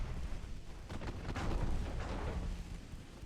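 Small-calibre naval guns firing in the Ultimate Admiral Dreadnoughts naval battle game: a cluster of dull booming shots around the middle, overlapping into a brief rumbling volley over low background noise.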